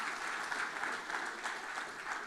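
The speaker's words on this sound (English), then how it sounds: "give all the award winners a huge round of applause" Sustained applause from a conference audience for award winners, a dense steady patter of many hands clapping at moderate distance.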